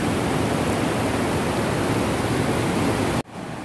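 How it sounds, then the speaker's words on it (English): A small waterfall on the Pacific Crest Trail roars as a steady, loud, broadband rush of falling water close by, cutting off abruptly near the end, with no talk. "So I just walked across a little waterfall."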